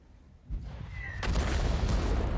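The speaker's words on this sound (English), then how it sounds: "Artillery just missed." A tank video game's artillery round lands as a miss: a sudden boom at half a second, then heavier rumbling blasts that build and hold loud through the rest, with a short whistling tone riding over them.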